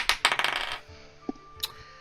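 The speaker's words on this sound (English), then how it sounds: "Oh, my dice make noise now, but they are not faster." Digital dice roller sound effect from an online tabletop role-playing session: a quick, close clatter of tumbling dice clicks, then a couple of soft chime-like pings as the roll settles.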